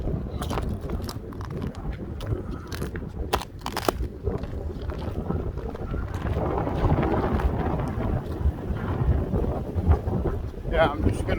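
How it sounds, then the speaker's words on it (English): Strong wind buffeting the microphone on an outdoor nature walk, a constant low rumble and roar with footsteps and rustling, close and loud throughout. "Oh, and it's windier. Getting windier."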